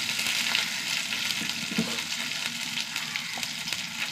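Cumin seeds, two or three dried red chillies and crushed garlic fry in hot oil with a steady, close, dense sizzle and faint crackles throughout, with no talking.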